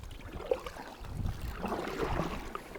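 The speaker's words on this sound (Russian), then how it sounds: "Сейчас вот дует довольно неприятный ветер в лицо." Unpleasant headwind gusting over the Pra River on a solo October float, a steady broadband rush with wind buffeting the microphone, a few faint knocks from the boat, no speech.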